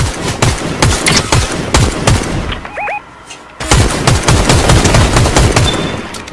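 Rapid gunfire in the Fortnite shooter Chapter 5 Season 1, loud close bursts of repeated shots, a brief pause with a small tonal game sound, then another sustained stream of shots.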